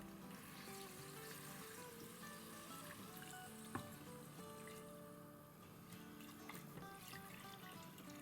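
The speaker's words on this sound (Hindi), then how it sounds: "अब हम इसमें पानी डाल देते हैं।" Water pours steadily into a pressure cooker pot for nihari, a soft continuous trickle and splash heard faintly and close, running alone for several seconds without talk.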